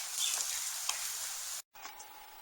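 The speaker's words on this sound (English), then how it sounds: "I browned or roasted the dandelion root" Dry dandelion root pieces sizzle and rustle softly as they roast in a pan, a faint steady crackle cut by a brief silent gap before it resumes more quietly.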